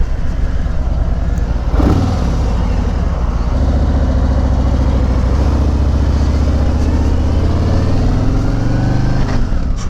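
Harley-Davidson Road Glide motorcycle being ridden, its engine a loud, continuous low rumble close by with a rise in revs near the start and steady throttle afterward.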